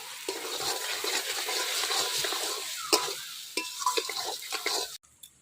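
Fried soya chunks are stirred into gravy in a wok, with a spatula scraping and clattering over a soft sizzle in short uneven strokes before the sound cuts off.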